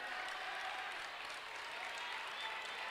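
A crowd at a high school boys' basketball game, Verona against Middleton, makes a steady distant roar of cheering and chatter, a constant wash of noise heard at low level.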